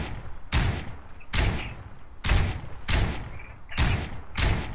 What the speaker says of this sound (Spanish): Estoy disparando, estoy disparando.